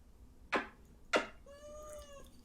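A domestic cat meows twice, loud and close, in quick succession, followed by a softer drawn-out tonal call over a quiet room.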